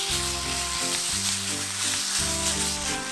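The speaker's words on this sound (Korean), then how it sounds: "고기가 뭉치지 않도록 중불로 줄여 볶아줍니다." Minced meat sizzles steadily as it is stir-fried over medium heat in a frying pan, a dense close hiss under a tonal music bed with shifting low chords.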